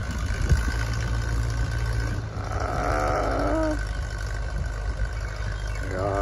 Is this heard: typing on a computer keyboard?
no